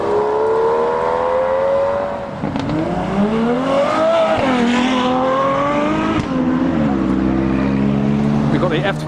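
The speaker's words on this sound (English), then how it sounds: "And here departs Sean. Aston Martin Valiant." Aston Martin Valiant supercar pulling away at a car show, its engine revving loud and close with rising and falling pitch through gear changes, voices in the background.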